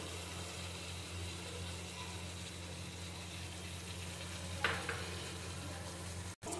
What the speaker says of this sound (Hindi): ये देखिए फ्रेंड्स यहाँ पे चिकन मेरा खूब अच्छे से पक रहा है